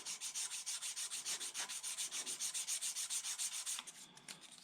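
Fine 1000-grit sandpaper scrubs oxidation off the copper commutator of a 1980 Chevy window regulator motor. About thirty quick, even back-and-forth strokes sound close, then stop.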